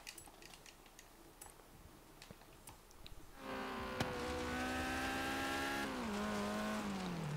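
A Peugeot or Renault car in the racing game Forza Horizon 3 starts quietly with faint clicks, then its engine roars up to a loud sustained whine that climbs in pitch and drops through a gear change, with no talk.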